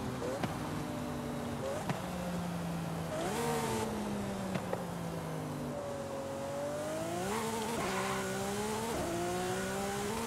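A fully upgraded Lamborghini SVJ engine in the video game Forza Horizon 5 revs and climbs through gears, pitch rising and dropping with each shift, steady and close throughout.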